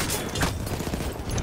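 Limpet charge blast in Battlefield 1 amid battlefield gunfire, a sharp burst followed by crackling booms and rattling shots, loud and close, no talk.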